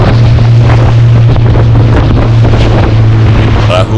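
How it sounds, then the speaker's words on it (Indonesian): A boat heaving through two-metre Indian Ocean waves in stormy weather, with loud, constant wind roaring across the microphone and rushing water surging around the hull. "Ombak Samudra Hindia sangat tinggi dengan hempasan yang begitu kencang."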